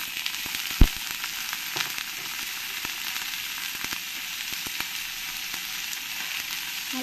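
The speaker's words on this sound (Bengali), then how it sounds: "উচ্ছেগুলো ভালো করে আমি ভেজে নেব।" Bitter gourd (uchhe) pieces frying in oil in a hot pan make a steady, close sizzle with occasional crackles and one sharp clink from a utensil, with no voices.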